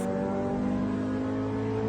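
A restored 1996 Honda Civic EK VTi with a D15B7 VTEC engine heard onboard, a loud, steady engine drone with strong harmonic tones running throughout.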